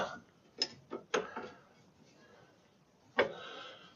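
A wrench ratchets and clicks while turning a tie rod on a 2001 Chevrolet Silverado, a few short mechanical clicks and knocks, close and moderately loud.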